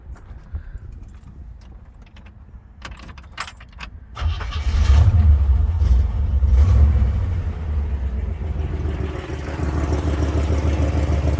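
A few light clicks and a key jingle, then a 1966 Pontiac GTO engine cranks and catches with a deep rumble, settling into a steady, throaty idle.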